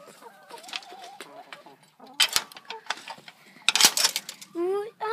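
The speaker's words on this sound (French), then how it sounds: "Voici là où on met nos poules." Hens clucking and murmuring nearby, with a few sharp clanks and rustles; a person speaks briefly near the end.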